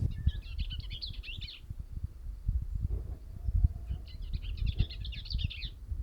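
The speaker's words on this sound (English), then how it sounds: "I have no clue what that bird is, but man, it is loud." A loud, unidentified bird calls near a dead tree with a nest hole, giving two bursts of rapid, high chattering notes separated by a short gap, over low rustling and wind.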